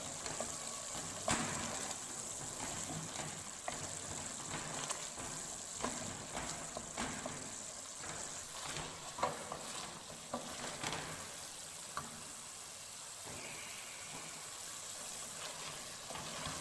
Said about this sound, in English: now we will add the rajma dal into rajma masala